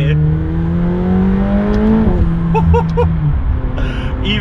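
A McLaren 720S accelerates hard, its turbocharged engine rising in pitch through the revs with an audible whistle and a quick shift, loud and close under a voice.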